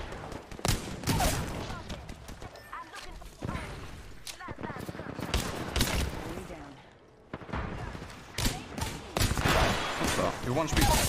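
Gunfire in a shooter video game: scattered loud shots and short bursts over about eleven seconds, with a brief lull partway through and a voice talking over the action.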